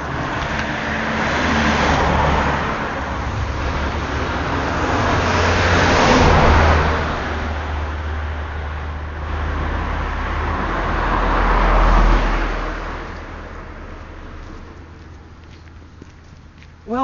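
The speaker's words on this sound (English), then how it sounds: "Car coming. That's a surprise." A single car drives along a quiet road in the Welsh village of Henllan, its engine noise swelling and fading twice over steady low rumble, moderately loud and close, with no voices.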